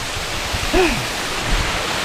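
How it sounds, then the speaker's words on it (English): Water pours down the limestone Cumaca waterfall deep in a Trinidad forest, giving a steady broadband rush with little variation; a faint voice briefly rises above it. "Cumaca waterfalls, deep, in the forest of Trinidad."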